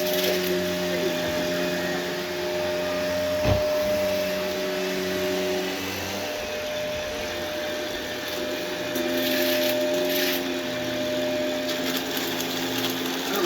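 A vacuum cleaner sucks up chunks of popcorn with a loud, steady droning whine, broken by one sharp knock and scattered rattling bits of debris hitting the blades.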